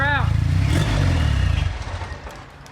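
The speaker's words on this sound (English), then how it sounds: "I just barely gave the throttle and it died." The engine of a wrecked truck given a light throttle blip sputters briefly and then dies away into near silence within a few seconds, with a person talking over it.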